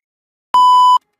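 A battery-powered buzzer wired on a breadboard gives one loud, steady electronic beep lasting about half a second, clean and close, between stretches of silence.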